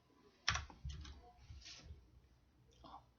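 Keys click on a computer keyboard during Python plotting work, a few soft taps in a short quiet burst up close, with a sharper keystroke near the start.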